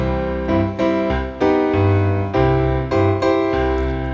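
Piano playing a song, with right-hand chords over a simple bouncing bass pattern in a steady rhythm, close and full-toned and played alone.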